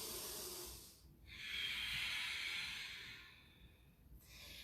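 During a yoga session, a close, quiet breath is drawn in as a long airy hiss and then eased back out, with a short pause between the two.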